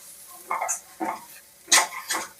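Spice powders, including coriander powder, being stirred into oil in a pan for an egg curry, a few short scraping and clinking strokes of a spoon against the metal, close and without talk.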